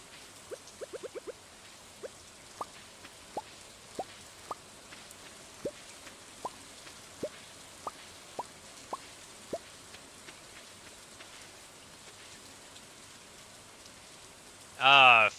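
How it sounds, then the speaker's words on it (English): Soft, steady rain patters in Stardew Valley as a quiet continuous hiss, dotted with regularly spaced small ticks and clicks, ending in a brief louder chime-like burst. "Sounds like it's raining, which is excellent."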